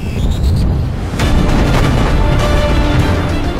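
Cleveland-class light cruisers, including USS Little Rock, firing their main guns at the Japanese cruiser Sendai, a loud, sustained barrage of booming blasts and rumble with a sharp fresh burst partway through, and no voices.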